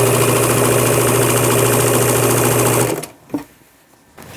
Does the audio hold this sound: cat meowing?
no